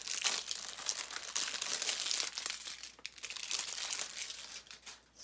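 Plastic packaging crinkles and crackles while being peeled off a beauty product bottle, a close, continuous rustle with sharper crunchy bursts over several seconds.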